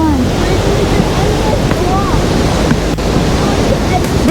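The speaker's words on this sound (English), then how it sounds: "This is the third waterfall." The steady, rushing roar of the Falls of Hills Creek waterfall in West Virginia fills the air close by, a constant broadband wash of falling water with a few faint bird chirps above it.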